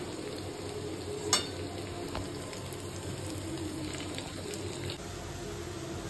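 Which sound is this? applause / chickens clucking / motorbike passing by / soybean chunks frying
soybean chunks frying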